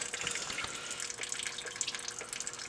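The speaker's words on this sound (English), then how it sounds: "Draining not only from the radiator itself, but also from the thermostat." Engine coolant trickles and splashes steadily into a container as it drains from the radiator and thermostat of a 2004 Subaru STI, a soft continuous pouring with small drips, fairly quiet and close.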